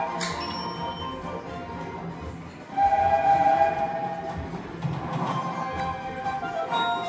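Electronic train effects from a locomotive-themed slot machine bonus, with a rail-like rumble and a bright sustained whistle-like tone in the middle, set among casino jingles and background chatter.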